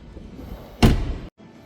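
The driver's door of a 2025 BMW 550e in Black Sapphire Metallic is handled up close, giving a single firm thunk of the latch with a brief rustle after, alone without talk.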